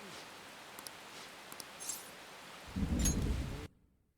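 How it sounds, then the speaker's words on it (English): Heavy rain hisses steadily in a video game, with a brief, louder low rumble of thunder rolling in near the end before the sound cuts out. "It's raining really hard."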